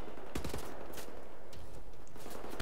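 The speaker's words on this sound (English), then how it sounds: "Where am I being shot from?" Bursts of automatic rifle and machine-gun fire in the shooter game Wolfenstein: The New Order, several sharp volleys crackling at close range in quick succession with no talking.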